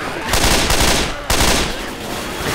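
Loud bursts of assault rifle fire in Left 4 Dead 2, a rapid automatic stream that breaks off briefly and then resumes at close range, with no voices over it.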